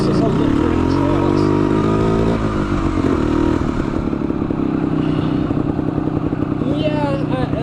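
A 1975 Yamaha DT250 vintage dual sport motorcycle climbs a mountain trail, its engine droning loud and close with shifting pitch, gravelly clatter and a voice speaking over the ride.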